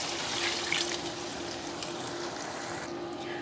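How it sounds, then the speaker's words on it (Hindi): Water poured into a pan of chicken and chickpea curry to make gravy gives a steady broadband splashing trickle that runs alone the whole time, close and moderately loud. "1 कप पानी डालते हैं ग्रेवी के लिए।"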